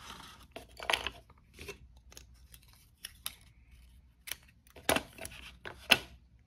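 Tape is pulled and pressed as a wooden stick is fixed to a paper cup, giving irregular crackling tears and rustles, close and alone.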